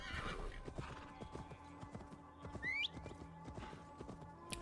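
Horse hooves clip-clop steadily in a video game while the horse gives one rising neigh partway through, all fairly quiet and close.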